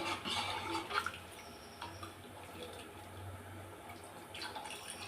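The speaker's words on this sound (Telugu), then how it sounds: "చింతపులుసు ఇలా రెడీ చేసుకున్నది పోసుకోవాలి" Tamarind juice poured into a simmering bottle-gourd curry gives a soft, steady trickle and splashing of liquid at close range, fairly quiet with faint drips and no talk.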